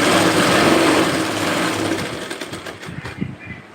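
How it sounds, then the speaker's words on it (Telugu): A sewing machine stitches a fabric seam at a tailoring lesson, whirring loud, steady and close for about two seconds before slowing and winding down, with faint handling noises and a low voice in the final moments. "ఇక్కడ నుంచి 1 ఇంచ్ గ్యాప్ ఇచ్చి మళ్ళీ స్టిచ్చింగ్ అనేది చేసుకుంటూ రావాలి."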